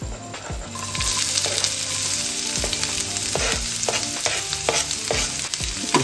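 Chopped onions fry with garlic in hot oil while being stirred, a loud close sizzle broken by repeated scraping and knocking strokes of a spoon against the pan.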